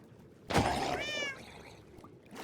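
A single short, quiet meow from a cat in hardcore Minecraft rises out of near silence, with a faint soft sound afterward and no speech.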